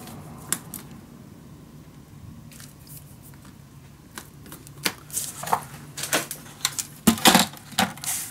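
Scissors snipping paper for a handmade vintage winter mini album, a faint uneven series of small close cuts and rustles that quicken toward the end, without speech.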